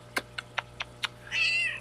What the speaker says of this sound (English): Oh, but this is my kitty.